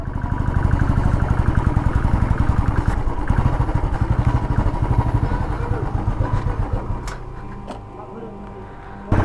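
Motorcycle engine running steadily and loud throughout with a rapid pulsing rhythm, easing off near the end, with a grandfather riding along on the bike on a rainy day; voices talk over it.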